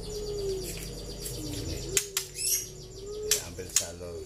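A young captive-bred white-rumped shama, about four and a half months old and large-bodied, sings a series of bright chirps and whistled phrases with a few sharp, louder notes, close to the microphone.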